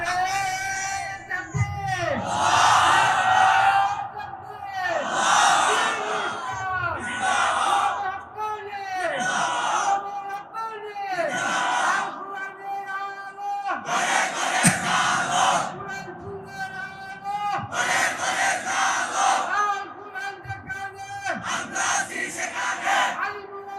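A large crowd at an Islamic sermon chants slogans and shouts takbir in loud, repeated unison bursts, alternating with a preacher's calls in a rhythmic call-and-response that continues throughout.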